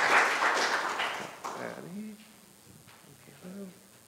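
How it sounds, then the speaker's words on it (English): A church congregation at a worship service applauds its graduates in a loud, dense burst that fades after about a second and a half, followed by quieter talk and a voice. "Now a round of applause for our graduates."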